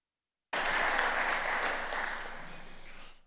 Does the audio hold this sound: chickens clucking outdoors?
no